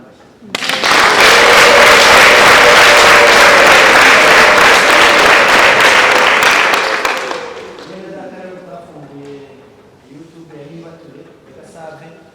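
An audience at a Nibature church gathering bursts into loud, dense applause that lasts several seconds, then dies away as a single voice starts speaking.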